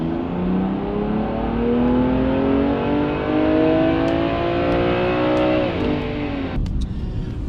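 A tuned Golf R or BMW M2 engine revs hard through a 5th gear dyno pull, its steadily rising drone loud and continuous, then drops off sharply near the end with a brief whir as the run finishes.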